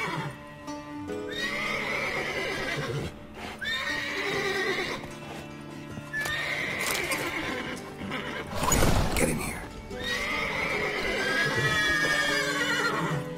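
Horses in the video game The Witcher 3 neigh and whinny repeatedly, several loud calls spread across the stretch with clip-clop hooves and game ambience beneath, while someone talks over them.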